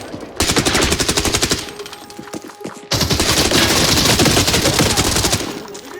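MDR rifle firing in a video game, rapid automatic bursts in two long loud strings separated by a brief pause, close and dense with sharp repeated reports.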